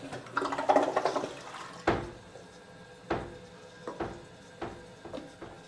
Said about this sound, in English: Flushy Flush.